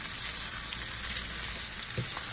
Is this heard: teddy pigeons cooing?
no